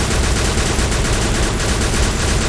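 Dense, continuous gunfire fills zombie mode in the Free Fire video game, a loud, unbroken barrage of rapid shots that masks everything else.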